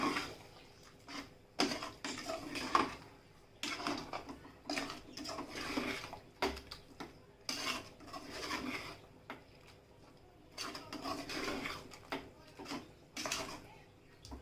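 Ground coconut paste is stirred into chicken salna in a pot, with repeated scraping and clinking strokes of a spoon that come and go in uneven bursts.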